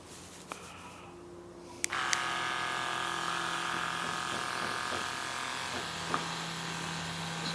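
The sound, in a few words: rechargeable electric garden sprayer spraying a fine mist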